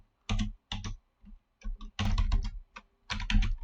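Bursts of fast typing on a computer keyboard come close and clear, with quick clattering runs of keystrokes separated by short pauses and no voices.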